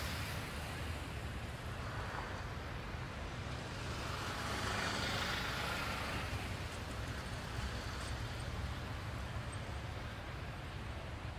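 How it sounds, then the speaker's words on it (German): Street traffic in Berlin with a truck driving past, a steady broadband roar of engines and tyres that swells slightly midway and continues without pause. "LKW."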